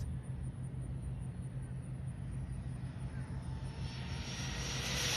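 Rlaarlo X12 RC car on a 3S battery, its electric motor giving a steady whine that grows louder and brighter toward the end as the car accelerates, heard from a distance with outdoor wind noise.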